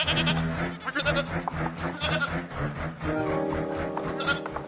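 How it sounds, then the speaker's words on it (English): Bleating from a baby goat rings out in short, repeated cries with a busy, steady layer of sound underneath, close and fairly loud. "You got a little bit of baby goat"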